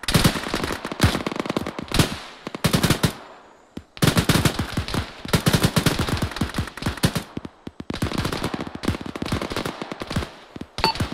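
Sustained automatic gunfire in a war game firing at enemy fighters across a swampy area, dense rapid bursts nearly nonstop, with a short pause around four seconds before the shooting resumes, loud and close.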